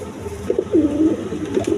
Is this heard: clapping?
no